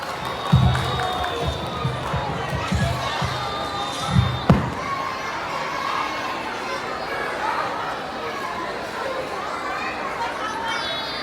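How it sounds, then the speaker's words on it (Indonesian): A crowd applauds at a kindergarten performance, with scattered cheers and chatter, a steady dense wash of clapping with a few louder bursts early on. "Beri tepuk tangan yang meriah."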